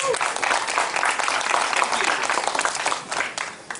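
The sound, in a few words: audience applause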